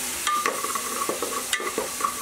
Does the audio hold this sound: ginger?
yes